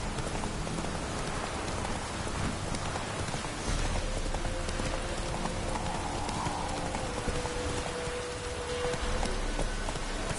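Video game horse galloping through rain: a steady patter of rainfall fills the scene while rhythmic hoof clip-clops run underneath, continuous and fairly loud with no pauses.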